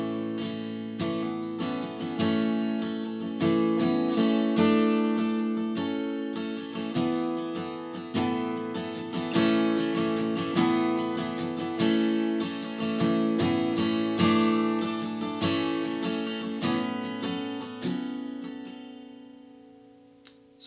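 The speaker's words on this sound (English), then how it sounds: "but instead of finger picking, you can strum it." Acoustic guitar strumming the chords of a worship song, a steady rhythmic pattern of bright, ringing strums that runs evenly throughout, close and unaccompanied.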